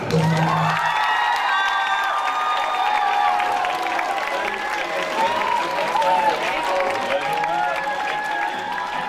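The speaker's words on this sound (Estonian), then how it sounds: "Imeilus suvepäev, imeilus etteaste, teeme imeilus aplausi!" Crowd applause for silver medal winners at a youth talent show, sustained clapping with cheers and whoops layered over music-like tones, a voice or two rising through the noise throughout.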